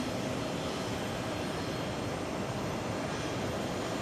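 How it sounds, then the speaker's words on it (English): Delta Airbus A330-300 jet airliner at JFK airport, a steady broadband roar of jet engines, constant and moderately loud with no distinct events, heard from a distance. "That's Delta's 126 to Madrid, A330-300."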